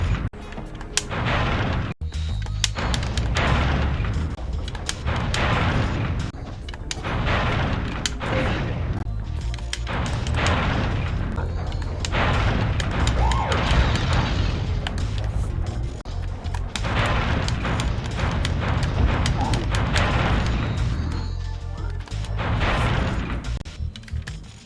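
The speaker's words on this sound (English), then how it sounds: "For the Hurricane skill point, you just need to destroy all these small little windmills." Small windmills being smashed in Spyro: Ripto's Rage, a rapid run of repeated clattering hits and thumping breaks in close succession, loud and busy over a game soundtrack, with no talking.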